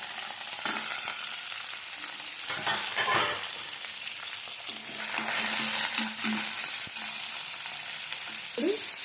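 Chopped chili, onions and tomato pieces fry in a hot pan with a steady crackling sizzle, broken by a few brief stirring scrapes and clatters, close and fairly loud with no talking.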